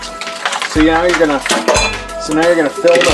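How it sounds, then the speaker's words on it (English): Ice cubes, six to eight of them, drop into a blender container for frozen hot chocolate, making loud, bright clinks and clatters in several bursts over a few seconds. "you're going to put some ice cubes in one of those blender things"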